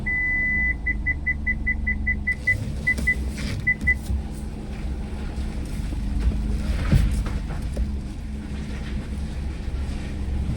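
A car reverses into a parking spot through a gate, its reverse warning beeper chirping in quick repeated pips at first and then fading out under a steady low engine hum.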